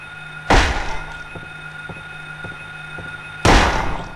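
Two heavy, booming gunshots from the video game Silent Hill, about three seconds apart, each with a sharp attack and a decaying tail over a steady low background hum.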